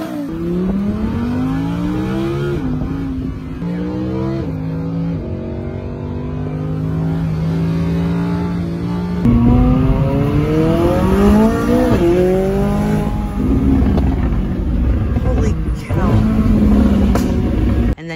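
A Lamborghini V10 revving hard toward 8,000 RPM in a showroom setting, repeated rising and falling engine sweeps climbing higher, loud and close, with people talking over it.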